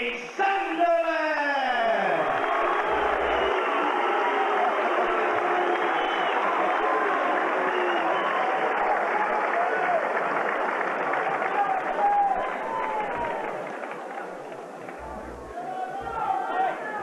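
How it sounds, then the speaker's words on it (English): A boxing crowd in the arena reacts to a Liverpool fighter's ring introduction with a mixed reception: sustained chatter, scattered clapping and murmuring that swell and ebb, with an announcer's voice carrying over the din. "Gary Sandland being introduced to the crowd here to a mixed reception"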